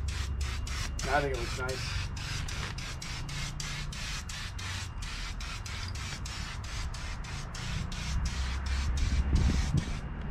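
Rust-Oleum Turbo spray paint hisses steadily onto the expanded steel of a DIY dump trailer, a continuous close spray with brief pauses and one short spoken remark partway through.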